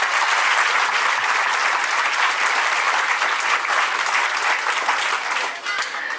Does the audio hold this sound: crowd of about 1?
yes